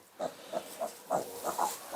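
A farm pig grunts in a quick series of short, close, nasal oinks, about seven in two seconds, with no talk over them.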